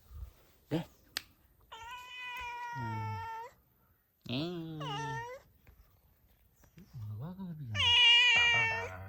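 A cat meows several times near a house, drawn-out, whiny wails separated by short pauses and rising into a loud, strained cry toward the end, with quiet clicks and small noises between calls.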